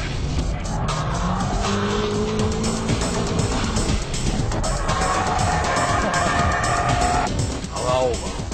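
In the game GTA San Andreas, a car drifts using the shift lock technique, its tires squealing in long sustained howls over the engine note for several seconds, with a voice talking across it.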